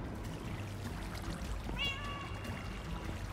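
A cat meows once in the Minecraft video game, a short clear mew over a steady low background hum.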